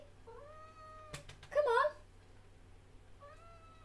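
A house cat meows loudly nearby, a short rising-falling wail cutting in after a sharp knock, with a person speaking briefly before it and steady low hum underneath.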